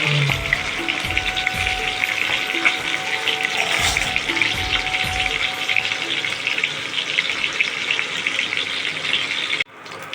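Small puti fish frying in a pan, a continuous hissing sizzle with occasional clinks of utensils, fairly loud and close, ending abruptly.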